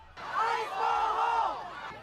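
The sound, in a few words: hostile crowd during street clashes in Chicago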